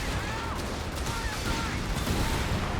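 Tulip rockets firing in a Company of Heroes 3 battle, a dense, continuous roar of launches and explosions mixed with gunfire, loud and unbroken throughout.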